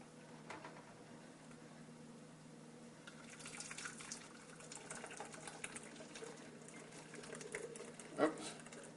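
Liquid from aloe vera poured and trickling through a kitchen strainer: a soft, steady pattering and dribbling, close but quiet, ending with a brief clink.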